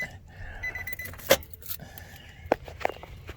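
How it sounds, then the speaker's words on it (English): Truck keys come out of the ignition with short metallic jingles and clicks, plus a few brief rattles over a low idling background and a faint chime. "Take the keys out."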